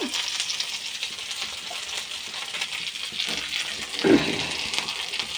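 Curry leaves and green chillies fry in hot oil with a continuous bright, hissing sizzle, close and moderately loud, with a short louder burst and a faint clink near the end.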